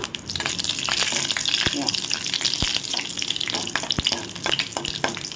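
Cashews fry in hot ghee in a kadai for wheat-flour halwa, producing a continuous close sizzle with faint stirring clicks throughout.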